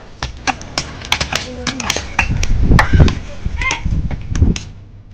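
Sharp, rapid hammer blows strike masonry as a flood-hit village house in Purnia, Bihar is torn down, the irregular knocks ringing out close by over a rumbling background of voices and general commotion.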